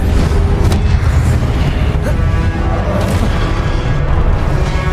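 Confringo fire-blast spells explode in a wizarding action game, a loud continuous barrage of booms and crackling blasts rolling together over several seconds, dense and forceful throughout.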